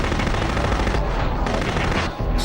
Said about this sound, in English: You have a big robot with big guns, including the miniguns, which I am demonstrating here